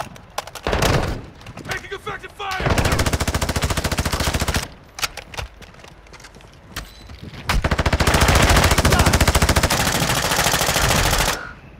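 Sustained machine-gun fire in a video game roars in long, dense bursts broken by brief gaps and a few single thuds, loud and close, with players talking around it.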